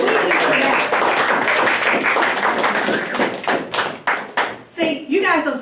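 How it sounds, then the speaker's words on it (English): An audience gives a round of hand claps, starting as a dense burst of many hands together, then thinning into scattered individual claps that fade near the end, with a voice speaking over the last moments. "I want you to give Mr. Joseph a hand clap"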